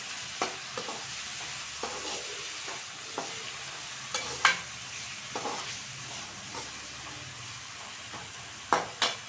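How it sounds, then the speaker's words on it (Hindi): Onions and carrots frying in a pan, with a steady low sizzle broken by scattered clinks and scrapes of stirring, close by and fairly quiet. "इधर ये गाजरें, इसको डाल देंगे इसके अंदर, प्याज के अंदर। अच्छी तरह भून लेंगे।"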